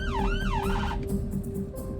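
An ambulance siren wails in rising and falling sweeps for about a second, then cuts off, leaving the steady rumble of heavy road traffic with passing cars close by.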